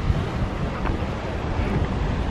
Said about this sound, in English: I can hear the sea anyway, crashing against the rocks.